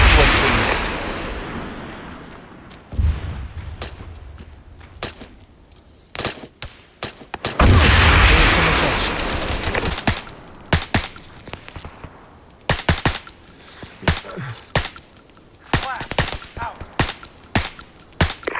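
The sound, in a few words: gunfire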